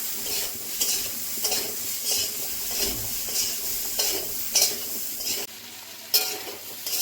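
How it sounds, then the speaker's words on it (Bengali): Turmeric, cumin and chili powder frying with vegetables such as ridge gourd and potato in a pan, a soft steady sizzle broken by repeated scraping stirs of a spatula against the metal. "জিরে গুঁড়ো, লঙ্কা গুঁড়ো। কিছুক্ষণ ভেজে নেব।"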